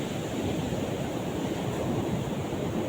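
Sea waves at Veraval Somnath beach, a steady broad wash of surf under wind noise on the microphone, continuous and moderately loud, with no voices.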